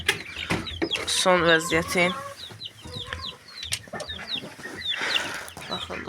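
Backyard chickens and chicks at evening feeding: a hen's throaty clucks, then a run of thin, repeated peeping chirps from the chicks, close by, with someone speaking briefly.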